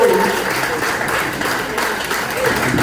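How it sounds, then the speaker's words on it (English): Applause from the audience at a gubernatorial campaign forum, a steady, moderately loud wash of clapping hands with no distinct individual claps. "one more round of applause for our Democratic gubernatorial candidate"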